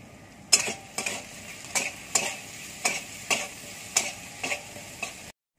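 Potatoes frying in oil in a home kitchen give a soft sizzle, broken by regular scraping stirs of a spatula in the pan, about one every half second, close and alone.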